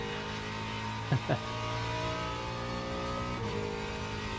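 A Ford Mustang GT3 race car engine in Le Mans Ultimate at Sebring, a steady droning mid-pitch engine note with two brief rising chirps early, held at a constant level without talk.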